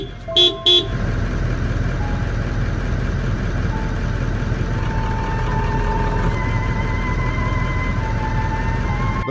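Car horn honking twice in quick succession, loud and close, to scare off a lion at a campsite, followed by a steady engine hum while the vehicle idles.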